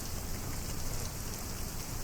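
Steady, heavy rain falls at a small airport in Microsoft Flight Simulator 2024, a dense continuous patter on surfaces with no voices.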